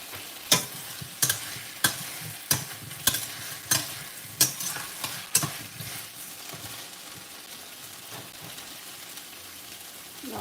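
Fish frying in a pan for Bengali fish curry makes a steady close sizzle, broken by a regular series of sharp scraping stir strokes that taper off halfway through.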